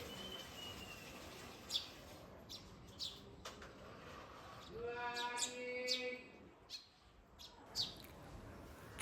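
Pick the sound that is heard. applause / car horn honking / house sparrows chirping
house sparrows chirping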